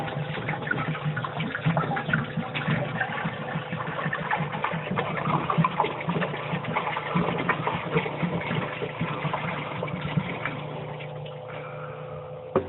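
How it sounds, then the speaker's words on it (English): Water pouring steadily into a home-brew kettle, a continuous rushing splash with a faint hum underneath, easing toward the end. "we're going to add 3 gallons of water to the brew kettle"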